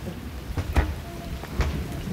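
Heavy rain pours steadily outdoors at night, a dense constant hiss with a few sharp knocks and rumbles breaking through, no voices over it.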